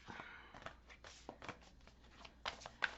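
Oracle cards from a spirit animal deck being shuffled by hand, giving soft papery riffles and taps in short bursts, with a louder flick near the end, quiet and close.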